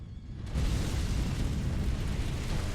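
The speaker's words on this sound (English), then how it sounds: "Also, you can dodge through that explosion." A fiery explosion in Sekiro during a fight with the Demon of Hatred erupts after a brief quiet moment, then holds as a loud, sustained, rumbling blast of flame that fills the scene.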